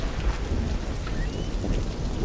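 Steady rain with a low rumble of thunder fills a stormy scene in the video game Observer, a dense continuous wash with no talking.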